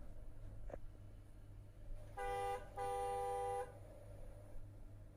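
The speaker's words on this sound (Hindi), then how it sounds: "डुअल इलेक्ट्रिक हॉर्न्स हैं" Two long electric car horn blasts from the dual horns of a 2022 Jeep Compass Model S 4x4 diesel, a short one then a longer one, loud and close, against a low steady rumble.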